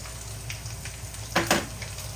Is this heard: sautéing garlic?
yes